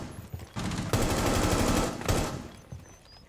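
Bursts of automatic gunfire in a first-person shooter video game, a sustained loud volley of rapid shots between shorter rattles, with no talk over it.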